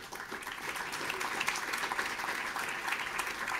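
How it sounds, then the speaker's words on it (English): An audience applauds award winners at the Dart Awards ceremony, a steady, dense wash of clapping that holds evenly throughout without pause. "Applause for all of our winners tonight."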